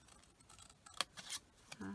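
Scissors snipping card up to a score line while making a chocolate treat box, a few quick crisp close cuts in a quiet room.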